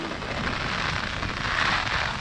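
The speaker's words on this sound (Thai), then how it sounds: "ฝนตกหนักมากทุกคน" Heavy rain pours in Tallinn, Estonia, a dense, even hiss of falling water that holds steady throughout with no talking.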